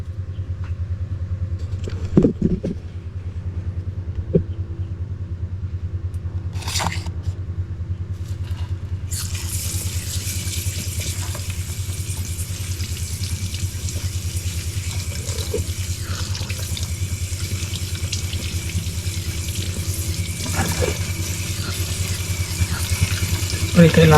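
Food being rinsed under a running kitchen tap, a steady stream of water splashing continuously for a long stretch, close and fairly loud, with brief clatters early on.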